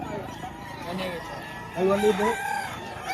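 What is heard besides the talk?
chickens clucking and crowing at poultry market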